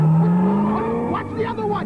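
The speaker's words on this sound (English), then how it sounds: "Look out, the car's coming!" A car approaches with a rising engine whine that climbs in pitch as it nears, heard under excited voices in a comedic action scene.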